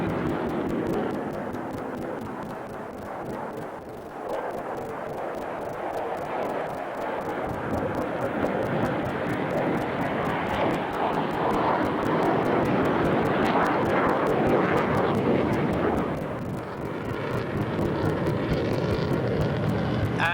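A Boeing F/A-18 Hornet jet fighter roars through a flying display at an air show, a loud continuous broadband engine blast that swells and holds for about twenty seconds, dipping briefly near the end as it passes.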